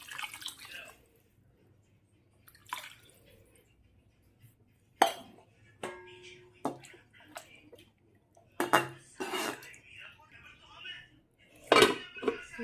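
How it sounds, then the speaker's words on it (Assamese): A lid set onto a cooking pot of fish in a home kitchen, with scattered sharp metallic clinks and knocks among quieter pauses, a few water drips, and a faint voice in the background. "ঢাকনখন লগাই দিছোঁ।"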